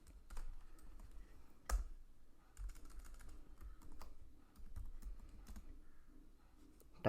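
Quiet, close typing on a computer keyboard, with irregular soft key taps and one sharper press near the start.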